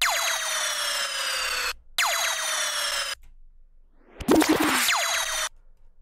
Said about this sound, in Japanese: もうこうプシューとかライザー系とかインパクト系とか。